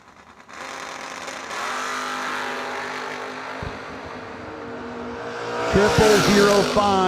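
Drag racing launch of a 1980 Camaro and a Vega, a sustained engine drone at moderate distance that swells into a louder, harsher roar near the end.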